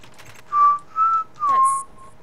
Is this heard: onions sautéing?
no